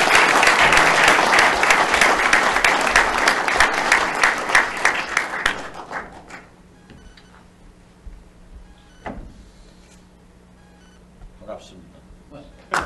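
Enthusiastic audience applause welcoming a guest speaker at an outdoor special lecture at Ilsan Square, dense clapping that fades after about six seconds, followed by scattered claps, knocks and handling noises in a quiet room.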